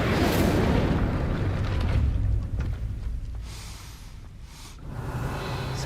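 An Incendio fire spell cast in the Hogwarts Legacy video game, a loud whooshing burst of flame at the start that rumbles on and then fades, with a second surge near the end.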